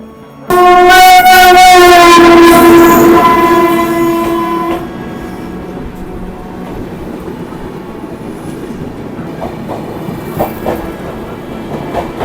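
The 13175 Kanchenjunga Express passenger train at a station sounds a loud, sustained horn blast for about four seconds, then its rolling rumble fades to a quieter steady background.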